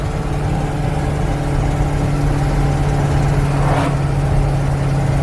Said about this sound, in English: 70 kilometers an hour, and listen to the revs.